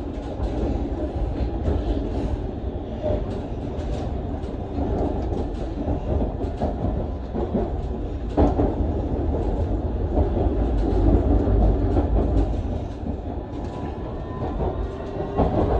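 A London Underground Circle Line train rumbles steadily along the track with a continuous loud roar and faint rhythmic clatter of wheels, heard from inside the carriage.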